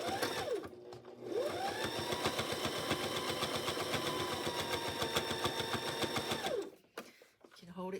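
A sewing machine runs steadily for about six seconds, stitching along the edge of a quilt binding. Its fast, even motor whir and needle clatter are close and continuous, then it stops and a few soft handling noises follow.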